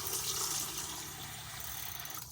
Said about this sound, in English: we have a covered sink with running water, hot water